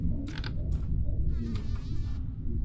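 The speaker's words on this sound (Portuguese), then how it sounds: "Vi uma mosca." A fly buzzes in a Chinese horror video game, with several close, wavering buzzy passes of varying length heard over a dense low rumble of game ambience.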